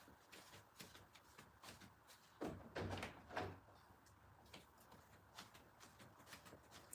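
Door opened to let Murphy the dog in, a soft thump and scrape mid-clip amid quiet shuffling room noise, no talking.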